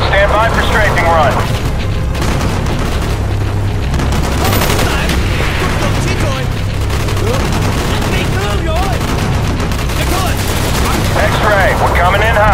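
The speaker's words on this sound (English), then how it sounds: "Stand by for strafing run." Sustained aircraft strafing gunfire from a Call of Duty: Black Ops campaign mission, rolling bursts and booms filling the whole stretch at steady loudness, with game radio chatter mixed in.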